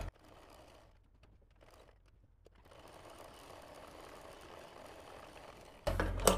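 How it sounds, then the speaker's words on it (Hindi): A sewing machine stitches churidar fabric, a faint steady mechanical whirr running for a few seconds before a sudden louder clatter at the very end. "ये सिलाई लगा के आपको दिखाता हूँ"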